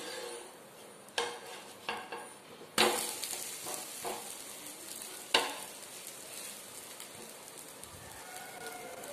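A multigrain dosa cooks on a pan after being flipped, giving a soft, steady sizzle with a few sharp spatula clacks and taps early on, then settling into a quieter hiss.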